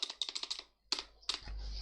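Computer keyboard being typed on while writing React code, quick runs of crisp close key clicks, a pause, then a few more isolated taps with a faint hum underneath.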